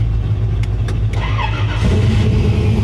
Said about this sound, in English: Everybody's getting their trucks warmed up.